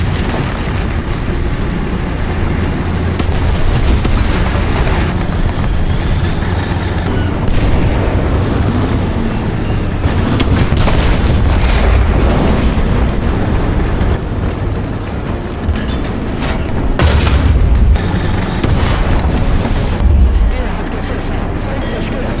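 Panzer IV tank cannons fire and shells explode in War Thunder's El Alamein desert battle, a continuous heavy rumble punctuated by repeated loud booms and blasts throughout, with voices talking over it.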